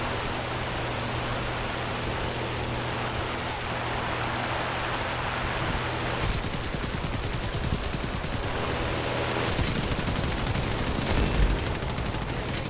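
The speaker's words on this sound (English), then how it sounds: "there's my guns going" Aircraft machine guns fire in two sustained bursts over a steady engine drone during War Thunder gameplay with an American plane, the rapid rattling rounds sounding loud and close.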